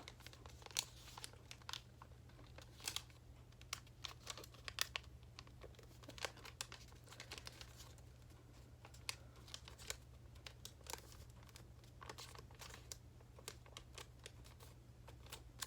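Origami paper folded by hand, with faint close crinkles, creases and soft taps repeating irregularly over a low steady hum, no talking.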